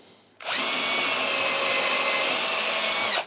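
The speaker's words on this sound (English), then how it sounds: "We can drill through." A 4mm drill bit bores through wood in one steady, loud, continuous run of about three seconds, starting abruptly and cutting off cleanly near the end.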